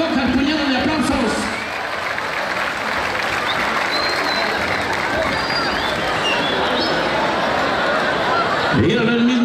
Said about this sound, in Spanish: Échale el aplauso, que recoja el puñado de aplausos